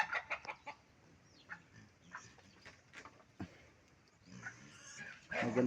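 Farmyard fowl clucking in short scattered bursts, with a few sharper calls and louder activity near the end, fairly close by.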